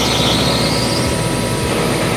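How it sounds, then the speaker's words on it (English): Aircraft brake systems trainer with its brakes applied, giving a loud, steady squeal with broad hiss and a low rumble, continuous for about two seconds and alone. "So if you press on the brake,"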